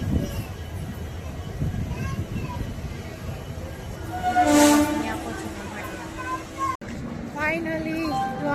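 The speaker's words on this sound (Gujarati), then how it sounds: "ટ્રેન ઉપડી ગઈ છે ભાટિયાથી નીકળી ગયા છે અમે" A train pulls out of Bhatia station to a rumbling, clattering ride. The horn sounds midway and again near the end, with people talking close by.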